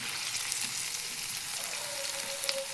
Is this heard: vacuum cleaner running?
no